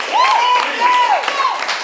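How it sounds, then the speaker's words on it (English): A comedy and improv show audience applauds, the clapping dense and close, with a few whoops and a voice calling out over it for about two seconds. "Big round of applause for Augusto!"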